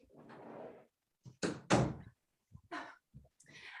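A dog pushes a door open indoors, making a few heavy thumps and a sharp bang close by, followed by lighter knocks and rattles.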